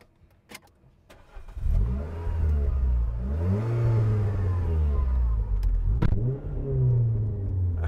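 A 2010 Renault Clio 2.0 VVT Renaultsport three-door is started with a push button, then its engine idles loudly and is revved up and down repeatedly, the revs rising and falling in smooth swells with no talk over it.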